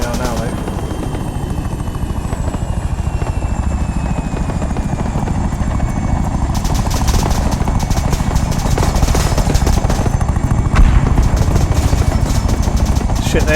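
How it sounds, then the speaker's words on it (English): A military helicopter in the video game Arma 3 drones with a heavy, steady rotor roar while taking heavy gunfire, a dense rapid crackle of shots building partway through and continuing under the engine noise. "That other heli's taking heavy fire though"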